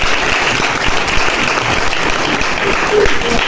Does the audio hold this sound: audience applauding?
yes